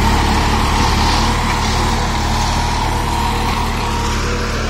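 A New Holland 3032 35 hp tractor works dry soil with a 9-tine tiller in high gear at around 1200–1300 RPM, its diesel engine a loud, constant, near rumble with a steady low throb throughout.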